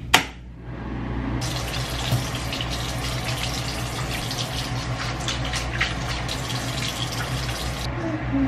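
A bathroom sink tap runs steadily while someone washes their face, a close, continuous splashing rush that follows a sharp knock at the start.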